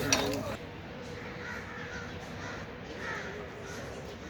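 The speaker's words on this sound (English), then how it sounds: "Planning how to rescue the crow." Crows circle overhead near a wild crow caught on kite string, giving a couple of faint, distant caws over a steady outdoor background hiss.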